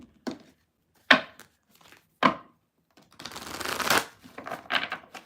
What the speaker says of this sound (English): See, these shuffle swimmingly well.